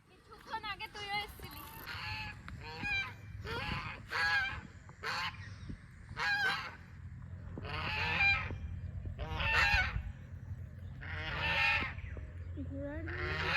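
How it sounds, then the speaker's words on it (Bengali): A flock of ducks by a pond gives loud, repeated honking calls in quick bursts, close by, while people talk and walk nearby. "ওরা ওই হাঁসগুলো দৌড়ে আসে কামড়ানোর জন্য"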